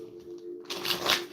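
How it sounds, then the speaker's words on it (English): A deck of reading cards being shuffled during a live card reading, a soft papery riffle that swells into a louder burst of flicking cards and then eases off, heard close and alone. "I know that was a big shuffle."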